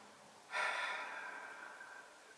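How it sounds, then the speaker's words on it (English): A single slow, soft breath drawn out over about two seconds, a breathy rush that swells quickly and then fades gently, heard close and alone in a quiet room for calming relaxation. "Breathe in and I breathe out"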